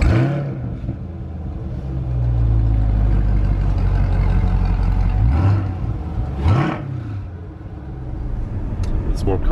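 A Chevrolet C8 Corvette cruising on the road produces a loud, steady low engine drone and tyre rumble heard from inside the cabin, swelling with a couple of brief throttle changes, while people talk over it.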